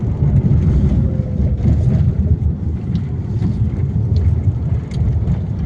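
Slow traffic on the Rajkot–Gondal highway in light drizzle: a loud, continuous rumble of nearby vehicle engines and tyres on a wet road, steady throughout with no talking.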